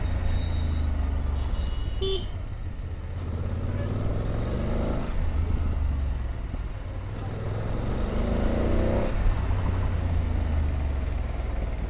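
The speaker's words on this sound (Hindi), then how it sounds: "So this is how this bike pools." A BMW F900 GSA motorcycle with a 105 bhp engine accelerates on an open road ride, its engine note rising in pulls over constant rushing wind noise, with a brief horn-like toot early on.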